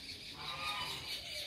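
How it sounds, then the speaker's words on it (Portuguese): Chickens and chicks on a rustic farm yard give a faint, continuous chorus of clucks and peeps at a distance, steady throughout with no one talking. "Mais umas galinhas."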